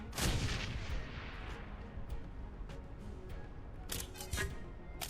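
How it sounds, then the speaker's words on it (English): Sharp blasts from a mini grenade launcher in the game Shadowrun: Hong Kong, one strong burst near the start followed by several smaller cracking impacts, moderately loud with no voices. "I love how it's literally called mini grenade launcher."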